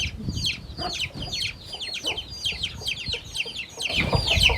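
A mother hen clucks in low, steady bursts while her chicks keep up a busy stream of high, thin peeping all around her. The flock sounds close and fairly loud throughout.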